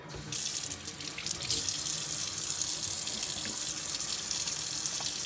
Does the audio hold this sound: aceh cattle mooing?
no